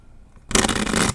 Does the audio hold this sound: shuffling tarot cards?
yes